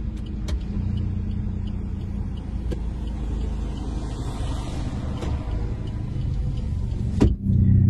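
A car fitted with a full-system exhaust of header, resonator and muffler, valve open, drives along with a steady loud rumble that barely varies, then a brief bump and sudden drop near the end.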